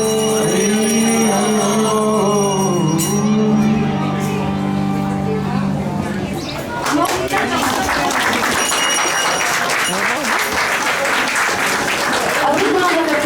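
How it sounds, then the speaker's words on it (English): Crowd at an ISKCON Milton Rathayatra kirtan 2024 breaks into applause after the singing ends, with sustained clapping in the second half following musical tones and voices at the start. "A big round of applause for the Kirtan."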